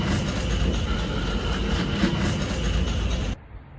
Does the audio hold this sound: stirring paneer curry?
no